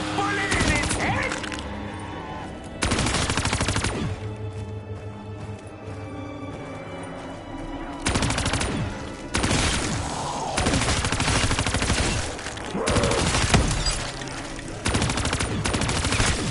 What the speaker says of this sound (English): Put a bullet in its head?